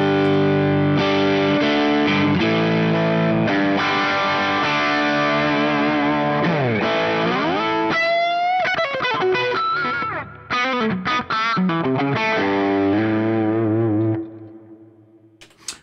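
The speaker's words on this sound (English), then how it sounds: "I haven't even gone to bridge pickup" Distorted electric guitar on the bridge pickup through a Morgan AC20 amp, with a bright, biting tone, playing sustained chords and then quick bends and runs, loud and close, ending in a fading ring.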